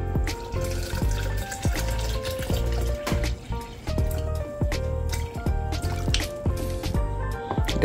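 Water poured from close by into a blender jug holding guava, a continuous gurgling, bubbling pour with dripping splashes and a rising filling tone, loud and steady, with no voices.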